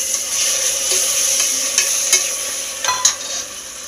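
Chopped tomato with turmeric fries in a pan for a home-cooked biryani, giving a steady close sizzle with occasional stirring scrapes and clinks.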